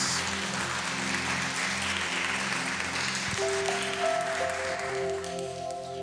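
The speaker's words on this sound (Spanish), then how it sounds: "Dale un fuerte aplauso al Señor si lo crees" Church congregation applauding together, a steady dense wash of clapping throughout, with sustained organ or keyboard tones entering partway and continuing beneath the clapping.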